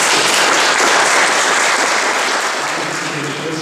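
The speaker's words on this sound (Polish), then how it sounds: "prosiłbym wówczas o oklaski, które jakby będą aprobatą tego, że zgadzamy się na przyznanie" An audience applauds in a hall to approve an honorary award, a dense, steady wash of clapping that stays loud throughout and eases slightly toward the end.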